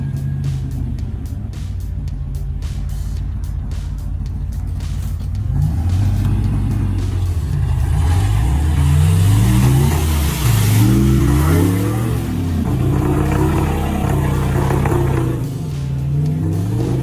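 A second-generation Cummins engine powering a firewood cutting machine revs hard and throatily, surging up and down in pitch over a steady rumbling base, loud and close throughout.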